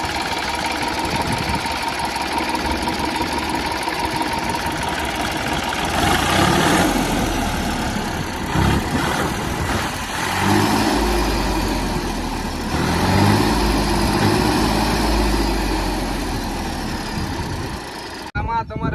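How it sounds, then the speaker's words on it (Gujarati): A Massey tractor engine idles steadily with a low, knocking rumble throughout, with some clatter and rattling on top. "આ ટ્રેક્ટરને અત્યારે સ્લેપ મારી અને આપણે અવાજ તમને સંભળાવી કેવો અવાજ છે અત્યારે"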